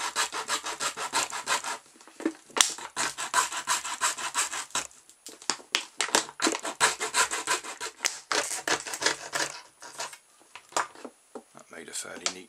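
Hand saw cutting the threaded top off a plastic bottle, rapid rhythmic rasping strokes close by with brief pauses, and a voice speaking in between.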